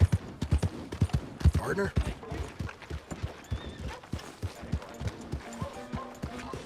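Horse hooves clip-clop at a steady trot in Red Dead Redemption 2, rhythmic close thuds carried under brief spoken dialogue from a character.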